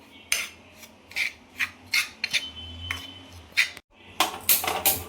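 Dry semolina stirred together with salt, turmeric and homemade red chilli powder for coating mackerel, giving repeated gritty rubbing and scraping strokes in close, uneven bursts.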